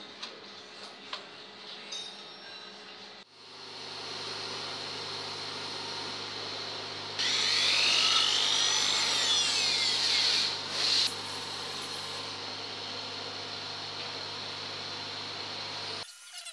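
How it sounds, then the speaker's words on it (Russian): A power drill whines steadily, rising into a louder, higher-pitched grinding as it bites into the metal of a cracked Hyundai Santa Fe 2.2 diesel cylinder head, drilling a spark plug channel, then settling back before stopping. "Закручиваю эту направляющую и сверлю."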